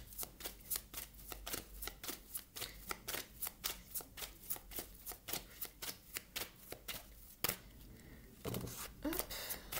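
Tarot cards are shuffled close up in a long run of quick, rhythmic riffling slaps that repeat steadily, with a few louder flicks near the end.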